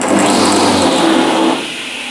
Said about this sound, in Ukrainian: Оцей грохот, який ви чули, це від насосика.